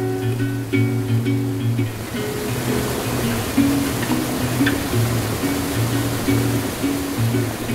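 A mountain waterfall gives a steady, broad rushing roar, with a low musical drone playing over the water noise.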